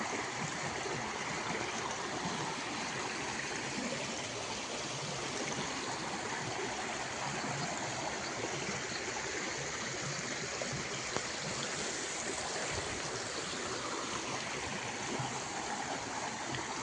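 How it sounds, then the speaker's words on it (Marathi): A small village stream flows after the monsoon, giving a steady, soft, even rush of water that continues unbroken throughout, fairly quiet and with no voices. "हे बघा वालेला पाणी बघा पावसाळ्यानंतरचं"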